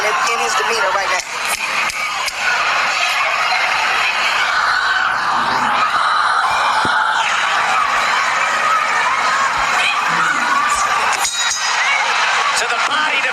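Arena crowd at a professional boxing match between Crawford and Porter, a sustained loud roar of murmuring and shouting with scattered sharp clinks, under steady commentary.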